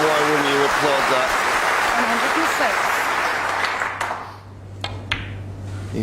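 A snooker crowd applauds a century break with dense, loud clapping that gradually fades away, while a commentator speaks over it.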